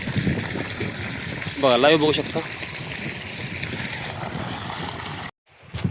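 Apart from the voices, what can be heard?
water gushing from a Shakti solar pump outlet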